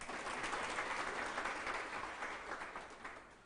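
Sustained, steady applause from an audience honouring a talented student named Waseem, a dense wash of clapping that holds throughout and eases slightly toward the end, with no voices.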